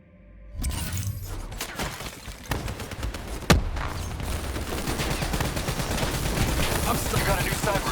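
Gunfire in the Girls' Frontline: Black Ops III simulated training level: loud bursts of rapid shots and sharp cracks build into a dense, continuous barrage, close and heavy.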